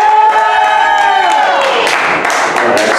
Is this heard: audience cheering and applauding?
yes